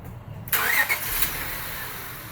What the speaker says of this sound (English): I'm going to go ahead and start the engine